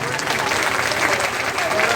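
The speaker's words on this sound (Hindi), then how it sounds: "सुनाने के लिए भी जोरदार ताली बजाइए।" An audience at a village religious gathering claps loudly, and the dense, continuous applause fills the space. A voice can be heard speaking over the clapping.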